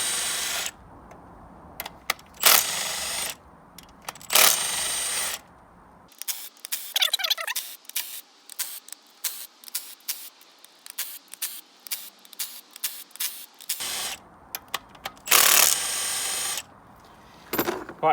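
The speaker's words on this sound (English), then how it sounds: "I just use my torque gun on a light setting" Short, sharp bursts of a torque gun set to its lowest setting, undoing the camshaft cap bolts on an engine head one after another, with a quieter clicking and rattling stretch in the middle before more bursts follow.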